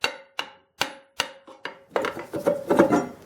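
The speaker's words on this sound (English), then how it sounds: "you can tap that off with a hammer" Hammer blows knocking the brake anchor off a Dana 60 axle ring out as six sharp, evenly spaced metallic strikes, each with a short tonal ring, followed by denser scraping and clanking of metal parts being worked loose.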